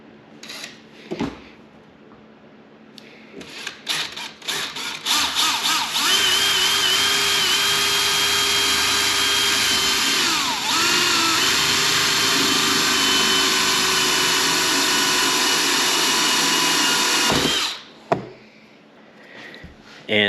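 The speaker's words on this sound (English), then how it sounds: "So first things first, we'll get a hole drilled right here. All right, so this is a 3/4 inch hole saw." A 3/4 inch hole saw on a power drill cuts a hole while a snowmobile fuel primer is fitted, starting with a few short bursts, then a steady loud whine of about twelve seconds, a brief dip partway through, before stopping abruptly.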